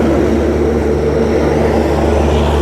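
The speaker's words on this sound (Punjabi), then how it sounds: "ਦੇਖ ਸਕਦੇ ਹੋ ਤੁਸੀਂ ਟ੍ਰੇਨ ਲੰਘ ਗਈ ਹੈ ਜੀ" A passenger train with a large engine passes close, producing a loud, steady, deep droning rumble with strong sustained tones throughout and no speech.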